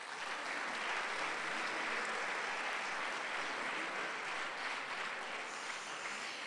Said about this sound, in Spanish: Un aplauso para los cuatro.